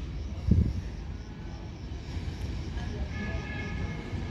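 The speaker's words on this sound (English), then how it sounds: "Oh, classic regional train." An Italian regional train rumbles past with steady low-frequency roar and rattling, a brief louder thump near the start, continuous and moderately close.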